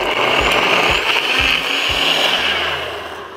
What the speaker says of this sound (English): Let's give her a blend.